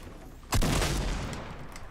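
A sudden loud burst of gunfire in the video game Fortnite during a duo Battle Royale match, one sharp blast that rings out and decays over about a second.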